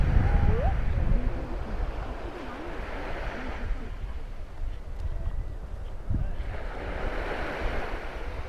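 Sea waves wash onto the shore at Varazze, Italy, during a sunset walk: a continuous rolling surf roar with swells and retreats, buffeted by wind noise on the microphone.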